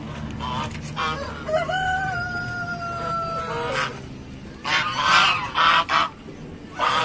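Duck at a petting zoo in Gunung Lang, Perak, giving several loud, nasal honking quacks close by, with quieter background voices and bird calls.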